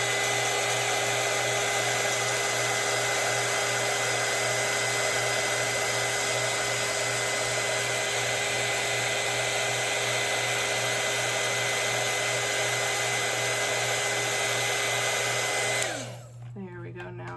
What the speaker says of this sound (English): I'm gonna hit it with the heat gun real quick